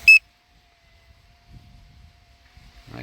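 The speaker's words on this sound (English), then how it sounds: "That beep is the battery, I believe." A single short electronic warning beep from a consumer drone's low battery alarm, heard in strong wind, sounds once at the start, then near silence with faint low rumbles and handling noise.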